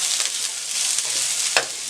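Sliced capsicum, green chilies and spring onions being stir-fried in a hot pan, a steady close sizzle with a few brief scraping stirs of the utensil, no voices.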